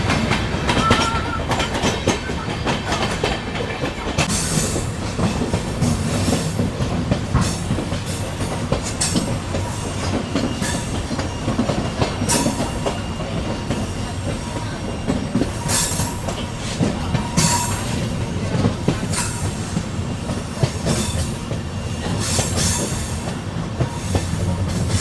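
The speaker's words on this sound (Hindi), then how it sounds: "अब यहाँ से और ऊपर को चढ़ना शुरू करेगी अपनी ट्रेन" The Kolkata Sairang Express climbs through the ghats with a continuous rolling rumble. Rhythmic wheel clatter and occasional sharp squeals from the wheels sound close by throughout.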